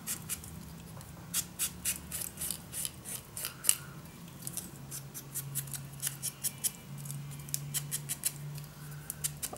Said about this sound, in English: Let's cut some more to the edges.